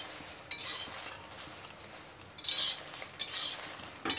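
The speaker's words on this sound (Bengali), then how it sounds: "একেবারে হালকা হালকা আঁচ দিয়ে ভেজে নিচ্ছি, যাতে লঙ্কাটা মুচমুচে হয়।" Dried red chillies with their stems removed are fried over very low heat and stirred in a pan, giving a few brief scraping, clinking strokes over a quiet background.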